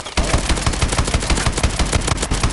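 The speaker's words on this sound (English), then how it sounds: "Okay, it's a chain gun." Rapid automatic fire from a chain gun in the video game Advanced Warfare, a loud continuous burst of evenly spaced shots lasting a couple of seconds, with no voice over it.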